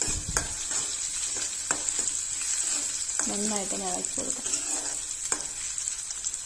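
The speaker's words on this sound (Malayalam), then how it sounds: "കൊച്ചുള്ളി അതിനകത്തോട്ട് ഇട്ടിട്ട് നമുക്ക് വെളുത്തുള്ളി ഇഞ്ചി പേസ്റ്റ് നല്ല ഇടിച്ച് പേസ്റ്റ് ആക്കിയതുകൂടെ അതിനകത്ത് ഇട്ടിട്ട് നന്നായിട്ട് നമുക്കൊന്ന് ഇളക്കി കൊടുക്കാം." Shallots and crushed garlic-ginger paste fry and get stirred in a pan for rasam, a steady close sizzle punctuated by a few sharp spoon-on-pan clicks, with a short voiced murmur partway through.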